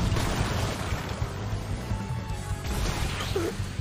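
Rushing, splashing water from a bathroom-water power in a Jujutsu Kaisen anime fight, a steady dense wash of noise like surf or pouring spray, loud and continuous throughout with no voices over it.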